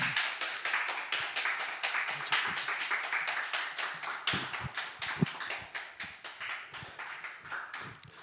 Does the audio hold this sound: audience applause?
yes